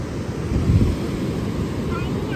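Rough, aggressive sea surging onto a beach at Tarkarli, Maharashtra, as a steady, loud wash of surf with wind buffeting the microphone.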